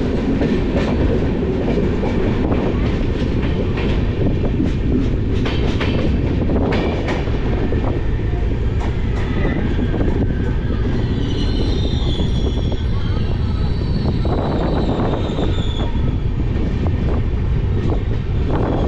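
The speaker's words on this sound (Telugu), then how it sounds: "Secunderabad Guntur intercity express." A Secunderabad–Guntur Intercity Express rolls past close by with a steady loud rumble, clattering wheels over rail joints and occasional squeals, wind buffeting the microphone throughout.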